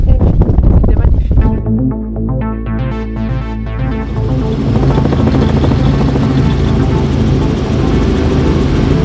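A helicopter on a tour flight roars steadily at close range, a loud continuous engine and rotor drone with a buzzing rhythmic whine building after a brief startup.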